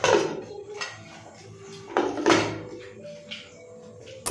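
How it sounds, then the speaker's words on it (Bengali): Pots, pans and plates being cleared from a dining table and carried to the kitchen, with several close metallic clatters and clinks separated by quieter pauses. "এখানে ডাইনিংয়ের উপর যে হাঁড়ি পাতিলগুলো ছিল এবং অপ্রয়োজনীয় বা এঁঠো যে প্লেট ছিল সেগুলো সব আমি রান্নাঘরে নিয়ে যাচ্ছি।"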